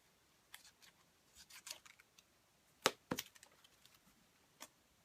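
Scissors snip excess paper off a handmade paper lace flower, with scattered quiet cuts and a louder pair of snips near the middle.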